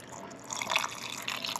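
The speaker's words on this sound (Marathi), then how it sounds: "आता मिक्सरच्या भांड्यात टाकलेलं आहे आणि थोडंसं पाणी टाकायचं आहे आपल्याला पेस्ट होण्यासाठी" A little water is poured into a mixer jar holding soaked urad dal, making a brief, faint trickle and drip close by with no voices.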